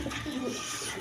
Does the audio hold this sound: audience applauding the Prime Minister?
no